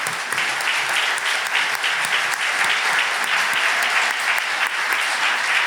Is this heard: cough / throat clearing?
no